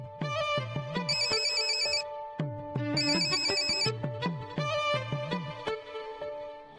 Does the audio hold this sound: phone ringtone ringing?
yes